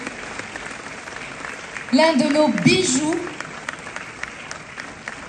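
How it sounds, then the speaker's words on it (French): A burst of audience applause at a film premiere rises briefly under an announcer's voice, lasting about a second or two before speech carries on over a quieter room. "Sous vos applaudissements très très très forts"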